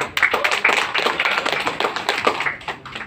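A small group of listeners claps at an informal talk, a short uneven burst of close, distinct hand claps with a clear tapping rhythm.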